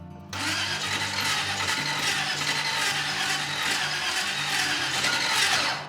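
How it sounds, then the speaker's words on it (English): Starter motor slowly cranking the engine of a 1954 Packard, a rhythmic, labored mechanical churn that runs steadily for several seconds, close and fairly loud. "It's cranking kind of slow. The starter sounds funny."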